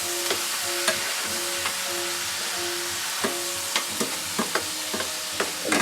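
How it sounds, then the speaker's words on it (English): Spinach stirred and frying in a pan with soy sauce gives a steady, close sizzle, broken by repeated scraping knocks from a utensil against the pan at an uneven rhythm, with no talking. "the spinach will always cook down"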